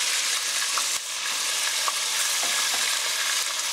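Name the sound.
pork searing in hot oil in a pan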